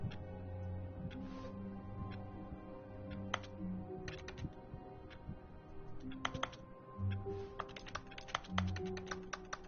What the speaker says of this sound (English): I'll just type on my keyboard.